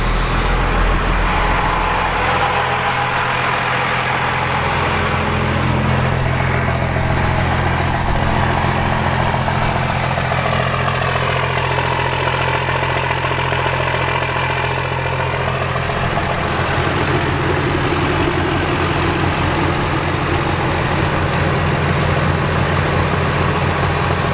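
Duramax diesel truck engine idling steadily with a deep, continuous rumble, running alone at a constant level with no voices over it.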